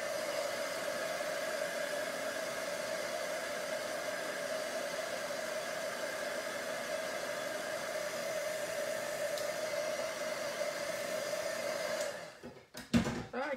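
A hot-air dryer blows steadily on a stamped card for about twelve seconds, a constant whooshing hum at moderate level, then cuts off and is followed by a few handling knocks.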